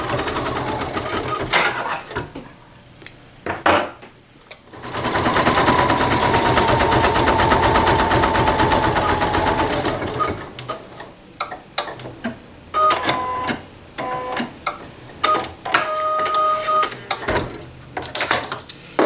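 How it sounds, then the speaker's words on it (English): A home sewing machine runs a satin stitch around the edge of a holiday holly project, a steady rapid needle chatter that stops and restarts in several short bursts with small clicks between. "We're going to start the machine and it's going to stitch the satin stitch around the edge"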